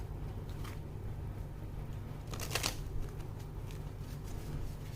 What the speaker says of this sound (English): let's just give it a nice shuffle